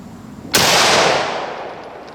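A single Savage Axis .308 rifle shot at a range, a sudden loud crack close by that rolls off into a long fading echo.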